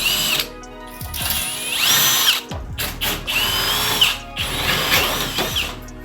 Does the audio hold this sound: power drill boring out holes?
yes